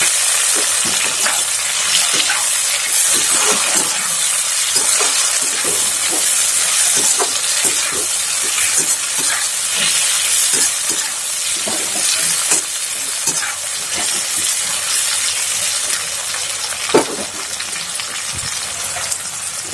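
Tomatoes sizzle and fry with onions in a pan for fish curry, a steady loud crackling hiss with occasional stirring clatters, close and unbroken, no talking.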